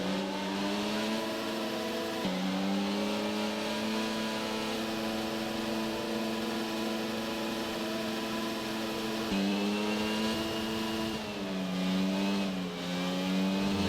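F1 22 race car engine in a PlayStation game at Abu Dhabi, a continuous loud high-revving whine with pitch shifts at gear changes, steady throughout with no voices.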